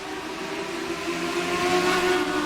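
Legends race cars on the front straightaway at Thompson accelerate together on a restart, a loud, sustained engine roar with rising tones that swells toward the end, with no talk over it.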